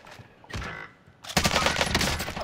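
Gunfire in a Warzone video game match, starting with a couple of brief shots and then a dense, loud burst of rapid automatic fire that rattles on continuously, with no talking.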